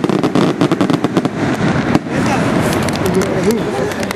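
Loud bursts of fireworks rockets popping and crackling in quick succession during a San Nicolás de Tolentino pilgrimage, with a crowd and voices murmuring underneath.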